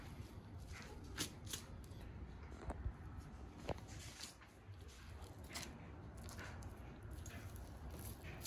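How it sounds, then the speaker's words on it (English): Skin being peeled back from a white-tailed deer carcass gives a quiet, close, continuous crackling and tearing texture with occasional small sharp rips. "Now just start peeling the skin back."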